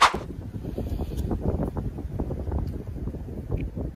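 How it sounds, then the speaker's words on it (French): Wind gusting around a hammock campsite during a bicycle trip across Greece, buffeting the microphone in low, uneven rumbles that swell and fade continuously, close and fairly loud, with no talking. "Je suis un peu moins protégé du vent qu'hier soir, j'avoue."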